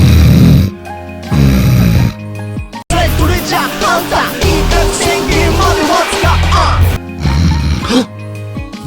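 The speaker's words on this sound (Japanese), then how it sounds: "私のいびきか。" Loud, rhythmic snoring in a resort hotel room at night, several long rasping breaths close to the listener with short pauses between them.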